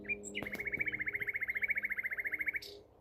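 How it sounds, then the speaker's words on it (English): A cuckoo in the Kent countryside gives a rapid, bubbling trill of about twenty evenly spaced notes, clear and fairly close, preceded by a short chirp. "No way, that's a cuckoo."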